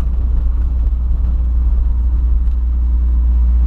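A Volkswagen Voyage engine idles slightly high after an engine wash, a loud, steady low rumble with a constant even drone and no talking.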